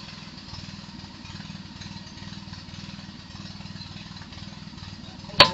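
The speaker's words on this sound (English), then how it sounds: "Got a new compressor for pumping up the bottles, that's what the noise is." A newly bought air compressor pumps up the air bottles for Daystate airguns, giving a steady mid-distance engine-like chugging drone with a rhythmic pulse throughout. A short sharp knock sounds near the end.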